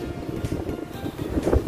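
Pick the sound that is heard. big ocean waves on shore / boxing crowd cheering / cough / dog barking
big ocean waves on shore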